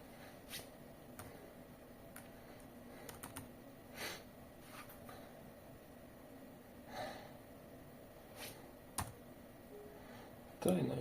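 Scattered, quiet keystrokes on a Lenovo IdeaPad 330 laptop keyboard after a coffee spill, in a hushed room, irregular clicks with a louder clatter at the end.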